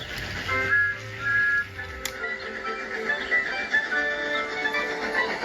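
Sustained tonal whistling, with several held notes overlapping and a sharp click partway through, fairly loud and close.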